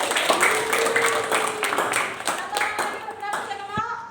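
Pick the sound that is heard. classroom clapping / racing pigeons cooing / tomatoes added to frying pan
classroom clapping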